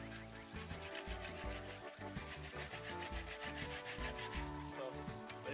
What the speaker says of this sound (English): so we're grate our coconut now.